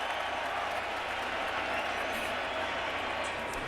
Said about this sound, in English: the expected Bronx cheer